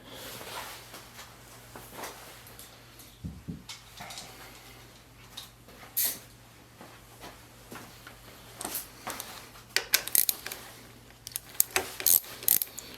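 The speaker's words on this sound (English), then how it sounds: "we're going to tighten the nut on the bottom" Ratchet clicking in short bursts while a nut is tightened on the lever mount of a 2022 Yamaha YZ450F dirt bike, with sharper, louder clicks toward the end and faint mechanical handling between them.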